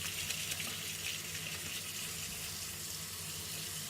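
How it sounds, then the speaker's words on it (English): Warm running water from a tap rinsing a wristwatch during cleaning, giving a steady, continuous hiss and splash at close range throughout, with no talking. "now we just rinse the watch again, and now the water is pretty warm"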